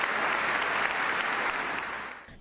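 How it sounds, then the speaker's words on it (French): Congregation applauding a sister honoured at a Bible study gathering, a dense steady wash of many hands clapping that thins and fades near the end. "Un fort applaudissement pour elle"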